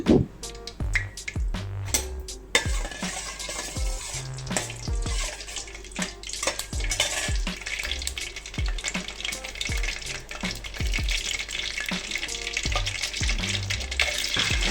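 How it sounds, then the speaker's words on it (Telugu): Mustard seeds spluttering in hot oil while tempering for usirikaya pulihora, a busy sizzle with sharp irregular pops and crackles bursting close and loud throughout, alone without talk. "ఇప్పుడు ఇందులో మనం ముందుగా ఆవాలను వేసుకొని చిటపటలాడనివ్వాలి"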